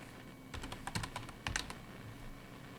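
Close, quiet typing on a computer keyboard: a short run of rapid clicky keystrokes in two quick clusters, with no talk.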